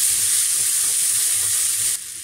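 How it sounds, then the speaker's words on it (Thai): Potatoes and onion stir-frying in a hot pan, a loud, steady close sizzle with a faint scraping undertone that drops slightly in level near the end. "ผัดมันฝรั่งพอสุกก็เติมเห็ดลงไป"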